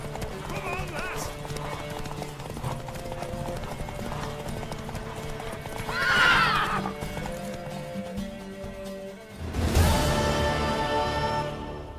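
A mare in The Witcher 3 gallops with rapid, steady clip-clop hoofbeats, breaking into two loud whinnies partway through, while voices talk over the ride.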